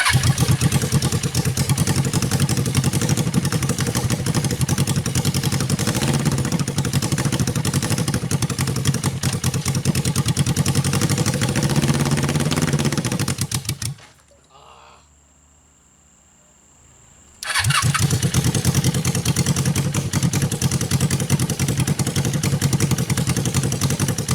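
A Suzuki engine mounted on a very big go-kart runs loud and rough in a steady, clattering roar, drops to near silence for a few seconds, then roars back up just as loud, with no talking over it.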